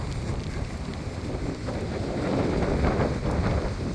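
Strong wind in the rain near the Angkor temples in Cambodia, a constant roaring rush that buffets the microphone, swelling slightly louder toward the end. There is no speech.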